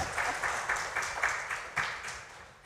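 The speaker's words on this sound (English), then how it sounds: "You can clap, really." An audience at a forum on climate change and COP 27 applauding, a short burst of steady clapping from a room of people at moderate distance, fading slightly over a few seconds.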